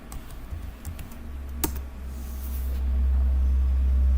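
Keystrokes on a computer keyboard at a command prompt, a quick run of light clicks with one sharper tap, over a steady low background hum that grows louder toward the end.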